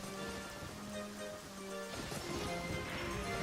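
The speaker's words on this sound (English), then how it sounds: "It's also raining indoors, which isn't good." Indoor rain in the Zelda: Ocarina of Time video game falls as a constant, dense hiss of drops beneath sustained tonal game music, continuous throughout.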